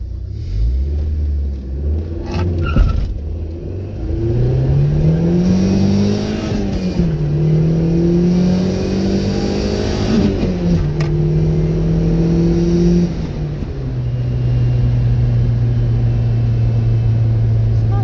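A 1987 Shelby CSX sports car engine drones and revs up and down as it drives, rising and falling in pitch with a steady rumble, no talking.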